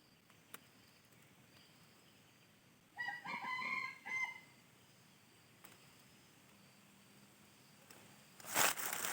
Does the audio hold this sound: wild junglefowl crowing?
yes